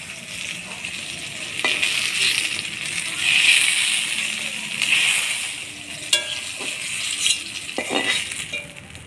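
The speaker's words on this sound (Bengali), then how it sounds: "বেগুনটা হালকা ভাজি নিলাম" Eggplant frying lightly in hot oil in a home kitchen, a steady close sizzle that swells and eases as pieces are stirred, with a few clinks of utensil against the pan.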